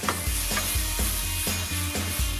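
Cumin, garlic, chili and red onions frying in a pan, a loud continuous sizzle with rhythmic scraping strokes of stirring, close and with no talk.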